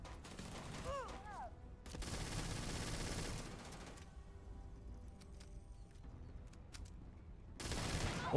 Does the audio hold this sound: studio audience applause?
no